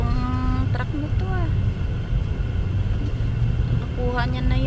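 A truck on a snowy winter road in Canada gives a loud, continuous low rumble throughout, with brief tonal horn-like sweeps and a voice heard over the engine noise.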